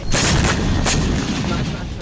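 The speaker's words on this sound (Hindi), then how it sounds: "हिजबुल्लाह ने तेल अवीव के ग्लेलोद बेस पर कई धमाके किए" Heavy booms and sharp cracks of explosions at a military base in Tel Aviv burst out in quick succession, loud and close, over a continuous rumbling roar.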